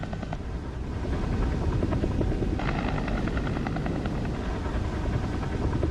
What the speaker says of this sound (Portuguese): Um segundo helicóptero corre para resgatar Grissom